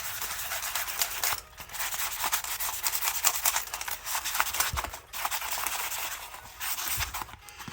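A steel armor gauntlet being scrubbed by hand to take off rust, with steady close rasping strokes that pause briefly a few times, no talking.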